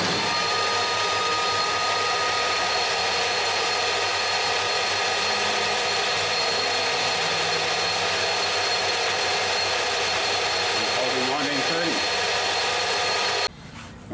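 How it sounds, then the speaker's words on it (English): A lathe spins at 2000 revolutions per minute with a digital tachometer mounted, giving a steady loud mechanical whine and hum that holds unbroken until stopping abruptly at the end. "we've set the lathe up for 2000 revs per minute,"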